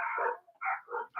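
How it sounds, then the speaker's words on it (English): A small neighbourhood dog in a cul-de-sac barks three times in quick succession, sharp yappy barks heard clearly at moderate distance. "Some little dog in the cul-de-sac just barking at my big dogs."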